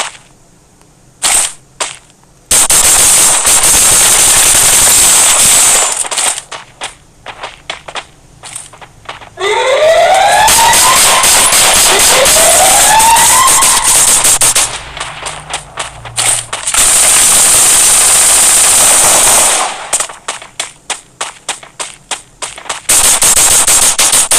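Loud bursts of rapid automatic gunfire in the video game Free Fire Max crackle in long volleys, broken by short pauses, with sharp whooshing effects in between, all without any talking.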